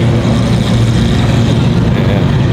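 Supercars including a Ferrari, a McLaren and a BMW rumble close by as they roll into a car show in a continuous, loud drone.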